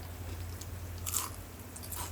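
A few soft, close crunches of someone biting into a crisp, syrupy jalebi, over a low steady hum.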